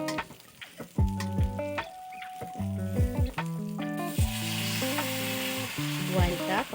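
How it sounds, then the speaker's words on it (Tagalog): Ginger, garlic and chili sautéing in a hot pan give a steady close sizzle that swells brighter partway through, with melodic tones running over it and no speech. "Isasabay na rin natin sa paggisa ang sili."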